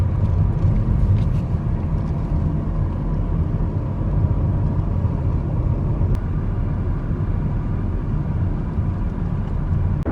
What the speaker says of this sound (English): Then we go through this very small tunnel. Oh, there's another car coming.